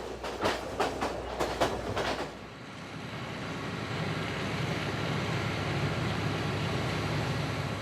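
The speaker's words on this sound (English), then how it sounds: "We're gradually getting used to the gentle rocking of the train." A train rumbles steadily along the rails in Sri Lanka with a constant low roar, preceded by a few sharp rhythmic clacks at the start.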